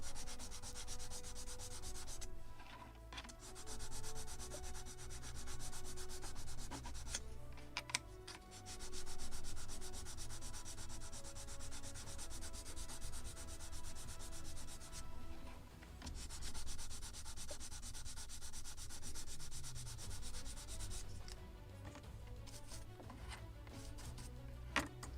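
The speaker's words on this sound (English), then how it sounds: "it is unsanded and polished, so should be sanded and polished" Continuous close sanding of an unsanded wooden model ship part for the gunboat Philadelphia, a steady scratchy rubbing with brief pauses and changes in stroke.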